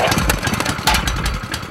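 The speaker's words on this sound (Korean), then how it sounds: "불안한 엔진 소리" An engine runs close by with a rough, uneven chugging rhythm, its loud sputtering pulses irregular rather than smooth.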